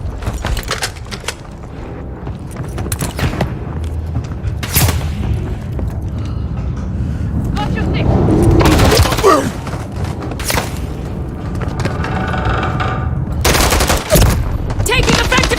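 Sustained gunfire in Call of Duty Modern Warfare III, with bursts of automatic fire, heavy booms and sharp shot cracks rolling continuously over a dense battle din, loud and close, with scattered voices shouting callouts.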